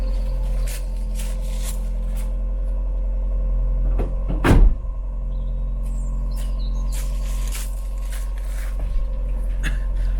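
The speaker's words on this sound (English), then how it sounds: "I'm going to leave the car sitting here idling and warming up to temperature for a little while" A 1990s Rover Metro with a suspected vacuum leak idling as it warms up, a low steady engine hum throughout, broken midway by a single louder thump and a few faint clicks and rattles nearby.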